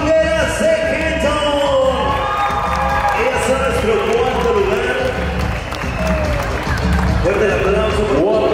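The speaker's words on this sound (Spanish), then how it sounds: "vamos a darle un fuerte aplauso a las guapangueras de Quito" Loud, sustained cheering and applause from a crowd at a huapango and tribal dance competition in 2020 honoring the huapango dancers from Quito, with shouts over a hall-filling roar and a host speaking above it.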